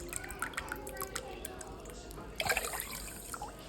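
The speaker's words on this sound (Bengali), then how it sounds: "এই যে আমি আস্তে আস্তে পানি দিয়ে দিচ্ছিলাম" Water is poured slowly into a pan to make sugar syrup, trickling and dripping close by with a brief louder splash near the end and no talk.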